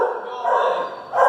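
Dogs bark and yip at an animal shelter in Oklahoma City, a steady chorus of close barking that runs throughout, with a voice talking over it.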